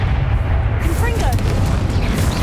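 A Confringo blasting spell explodes in the Hogwarts Legacy video game, a dense rumbling boom with crackling burst texture that fills the whole moment, heavy low end throughout and a shouted spell voice near the start.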